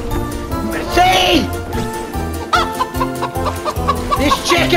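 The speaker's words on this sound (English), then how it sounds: "This chicken won't die." A chicken in the Fortnite video game clucks in repeated short bursts, loud and near, while players talk over it.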